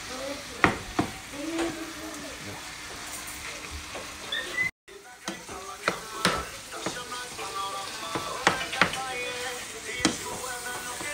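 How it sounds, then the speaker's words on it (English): Ground beef sizzles and crackles in a frying pan while a utensil scrapes and breaks it up, producing repeated close clacks over a steady hiss, with a brief cut midway. "now he's trying to break down the ground beef"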